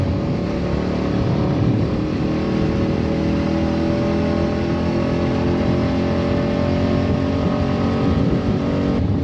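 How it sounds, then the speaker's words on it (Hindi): A motorcycle cruises on a road trip from Patiala to Kasauli while overtaking, its engine a steady, continuous drone blended with strong wind rush, with no break or change in level. "तो ये डॉक्टर परवीन और मोनिका भाभी को ओवरटेक करके अब मैं ले रहा हूँ लीड"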